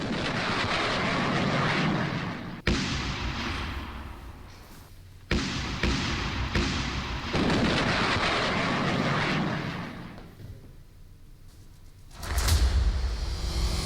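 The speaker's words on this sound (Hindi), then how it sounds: "एक के बाद एक ताबड़तोड़ धमाके और जोरदार धुएं का गुबार भी उठ रहा है" Series of heavy explosions from a Russian attack in Ukraine's Poltava region, rolling, sustained booming blasts, several in sequence with abrupt onsets, loud and reverberant, with a final deep thump near the end and no talk.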